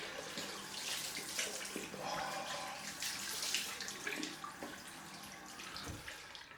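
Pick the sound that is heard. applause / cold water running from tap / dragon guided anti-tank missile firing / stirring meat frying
cold water running from tap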